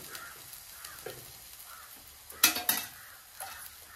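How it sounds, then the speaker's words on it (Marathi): A spoon clatters against a pan as a roasted onion and coconut ground paste goes into boiled cowpeas, with two sharp metallic knocks close together over a faint background hiss. "त्याच्यात मी आता भाजलेला वाटात घालते"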